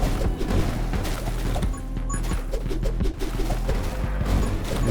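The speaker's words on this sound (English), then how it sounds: "We have to be careful because the explosions are kind of big." Explosions in the video game 20 Minutes Till Dawn come as a dense, continuous barrage of booms and crashes, loud and busy throughout, with no talk over them.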